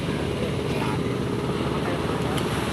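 A small boat's engine drones steadily and loudly while the boat crosses big waves, mixed with rushing water and wind noise throughout.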